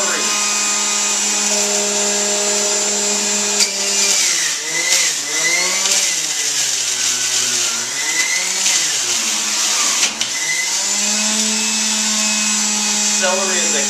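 A juicer motor whirs steadily and loudly for the whole stretch, its pitch sagging and recovering as cilantro stems and celery are fed through and crushed, with brief dips where the load bears down hardest.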